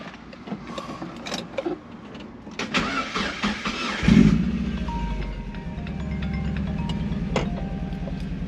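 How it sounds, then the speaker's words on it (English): A car engine cold-starts after some handling noise: the starter cranks briefly, the engine catches with a loud burst, then settles into a steady, close idle. "here's gonna start it up and do a cold start"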